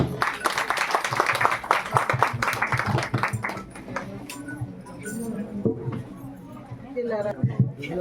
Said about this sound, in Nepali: हामी ताली बजाएर स्वागत गर्नेछौँ